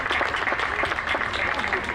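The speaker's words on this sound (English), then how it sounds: "a big round of applause for all the volunteers who are out here making the magic happen all weekend long" Outdoor crowd at a Canada Day and Golden Spike Days celebration in Rocky Point Park, Port Moody, clapping for volunteers, a dense continuous patter of applause with voices mixed in.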